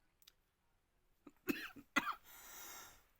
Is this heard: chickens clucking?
no